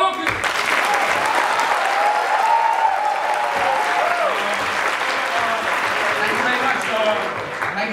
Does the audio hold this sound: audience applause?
yes